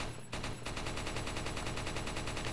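Rapid gunfire from the Resident Evil 4 video game rattles out in a fast, loud, evenly spaced burst that fills the whole stretch after a brief opening sound.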